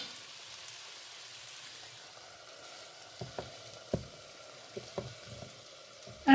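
Sausage and potatoes for a breakfast hash fry quietly in a pan, with a low crackling sizzle under a handful of sharp spoon scrapes and knocks in the second half, ending with a louder clatter.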